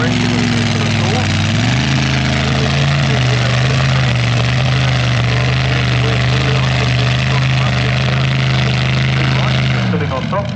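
A tractor pulling engine roars loud and steady at an outdoor event, a droning tone that climbs briefly at the start, holds under strain, then cuts off near the end.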